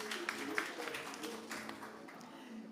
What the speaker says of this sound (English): Please give a big round of applause to Debbie Gray